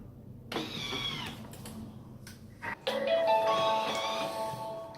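A Thermomix runs on reverse speed with carrots and pepper inside, a steady mechanical whir and hum that starts about half a second in, dips briefly near the three-second mark, then resumes with a brighter, tonal whine.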